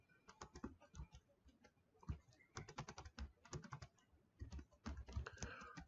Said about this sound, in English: I'm going to type in this